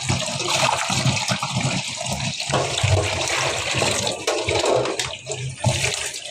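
Fish being rinsed and washed under a running tap in a kitchen, a steady close splash and gush of water with shifting slaps as the fish is handled, no talk.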